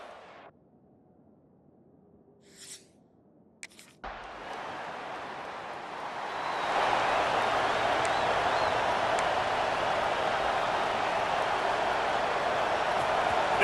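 Stadium crowd noise in the EA Sports College Football 26 video game: after a quiet start with a few brief sounds, a broad roar of the crowd swells in and grows louder, holding steady to the end.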